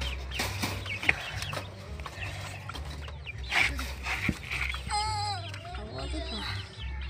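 Farm fowl cluck and chatter nearby among poultry including quail, a busy mix of short calls with a brief high squawking run, while people talk in the background.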